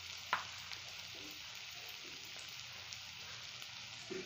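Chickpea and potato curry with tomatoes, chilli powder and turmeric being stirred in a pan, a steady broadband sizzle with a faint scrape near the start, close and continuous with no voices.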